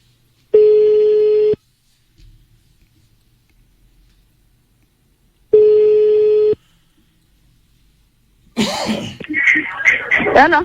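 On a radio show, a telephone call rings out in two separate loud bursts with silence between them, followed by a voice and throat clearing near the end.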